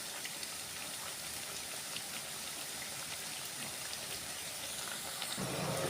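Steady, dense sizzle of something frying in hot oil, its other side now in the pan, a continuous close crackling hiss with no talking.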